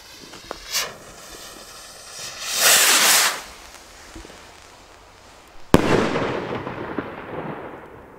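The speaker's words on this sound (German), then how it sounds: "Geiler Aufstieg, fetter Zerleger. So muss eine Rakete sein." Firework rockets launch with a rising whoosh and hiss, then a sharp crack bursts into a crackling, fading spray; an earlier faint launch is heard, all outdoors and fairly distant with no talk.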